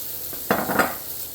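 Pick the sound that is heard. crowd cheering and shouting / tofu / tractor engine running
tofu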